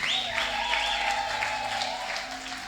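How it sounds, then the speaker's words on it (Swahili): A church congregation claps steadily while high, warbling ululation rings out over the applause, loud and close throughout. "Makofi na vigeregere tena, haleluya."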